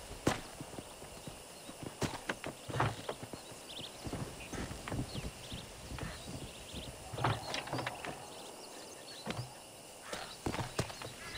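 A horse-drawn wagon rolls along in a western video game, steady hooves clip-clopping at a walking pace amid wheel creaks and ambient noise, fairly quiet with a few whinny-like sounds.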